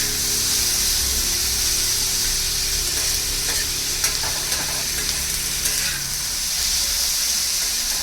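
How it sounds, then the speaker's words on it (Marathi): Tomatoes and onion sautéing together in a hot pan, a loud continuous hiss and sizzle close up, with a few faint scraping stirs partway through and no one speaking. "टोमॅटो आणि कांदा चांगला परतून घ्यायचा आहे."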